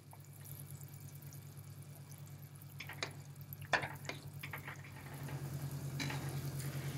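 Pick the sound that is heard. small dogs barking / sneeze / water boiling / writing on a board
water boiling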